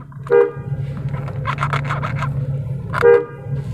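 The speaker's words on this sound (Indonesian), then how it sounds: "Cukup kencang ya klaksonnya." Two short blasts of a 1996 Jeep Cherokee XJ 4.0 car horn, one near the start and one toward the end, loud and close, with a brief honk between them over idling hum.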